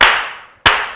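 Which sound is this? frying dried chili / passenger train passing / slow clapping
slow clapping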